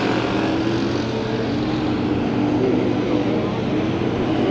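Race car engine at Santa Maria Raceway during heat races, held hard on the gas with smoke trailing from the transmission; a loud, steady, dense roar fills the whole moment without a break.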